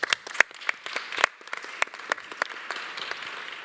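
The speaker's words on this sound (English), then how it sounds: "let's join me to clap for her" Audience applause at a longevity summit in Milan, a lively burst of clapping with prominent individual claps near the microphone over a fuller crowd wash that gradually thins out.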